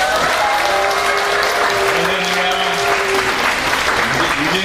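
A loud indoor crowd bursting into applause and cheering at a New Year gathering, with thick continuous clapping and raised voices shouting together throughout.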